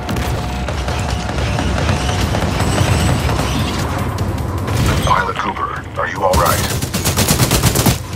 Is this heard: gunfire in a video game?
yes